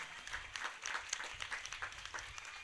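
A crowd claps at a Catholic feast celebration for Holy Mother Mary in Bantumilli, the applause fairly faint and distant, a steady patter of many hands without speech.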